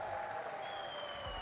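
Esports arena crowd at a Rocket League championship quarterfinal, a dense sustained wash of cheering and applause filling the hall, steady and loud for the whole moment.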